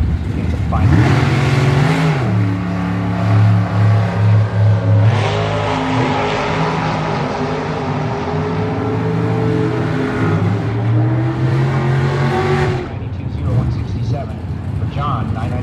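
A 2003 Corvette Roadster drag racing at an NHRA Midwest Nationals event at World Wide Technology Raceway, its engine revving loudly and steadily near the track while an announcer talks over it.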